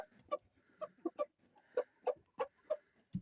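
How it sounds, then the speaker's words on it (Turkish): Chickens clucking nearby in short, irregular bursts, with a faint steady hum in the background. "Ya tavuklar hiç bırakmıyor peşimizi."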